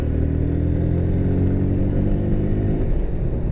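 A 2017 Honda Hornet 160 motorcycle hums steadily under the rider, its mid-pitched engine note close and continuous with a constant road rumble beneath and no talking.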